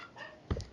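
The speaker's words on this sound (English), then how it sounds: "Oh, my dog is freaking out." A pet dog gives a single short, sharp bark near the end of a quiet indoor moment, fairly close and moderately loud.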